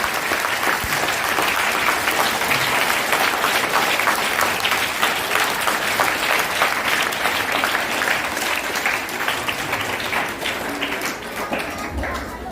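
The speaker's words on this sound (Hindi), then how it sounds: "एक बार जोरदार ताली।" An audience at a Teej celebration claps loudly and continuously, a dense rapid patter of many hands that fades slightly near the end.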